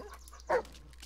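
A dog in the video game Blair Witch gives one short, loud bark in the middle of quiet ambience, with faint whimper-like sounds around it.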